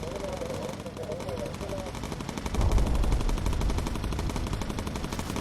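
Sustained machine-gun fire from a bomber's turret guns in the video game Bomber Crew, a dense rapid rattle that swells louder partway through amid engine drone and flak, with a voice giving orders over it.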